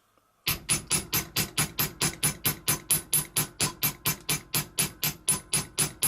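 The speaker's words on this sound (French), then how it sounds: "Et là je vais le marteler davantage ici sur le haut que sur le bas" Thick, stiff metal wire hammered into a heart-shaped pendant, about twenty loud, evenly spaced metallic strikes in a steady rhythm with no talking.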